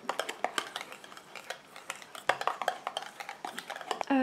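A utensil stirs a cupuaçu body butter mixture in a bowl, making quick, close, irregular clinks and scrapes that continue steadily for several seconds.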